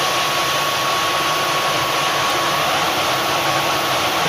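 Tornado GR1 jet engine running in the Microsoft Flight Simulator 2024 cockpit during a cold-and-dark start-up, a steady, loud broadband roar and hiss that holds constant throughout with no voices.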